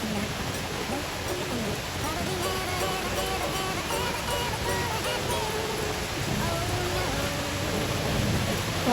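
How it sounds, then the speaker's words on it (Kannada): Summer rain falling steadily near the sea, a continuous even hiss of drops, fairly close and constant, with faint voices beneath it. "ಮಳೆ ನೋಡಿ ಇಲ್ಲಿ"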